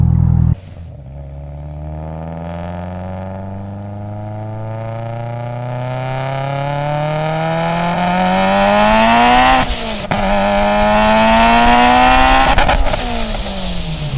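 A Mitsubishi Evo X engine revs up steadily and loudly with rising pitch in second gear, pausing briefly for a gear change before pulling hard again, heard from inside or close by.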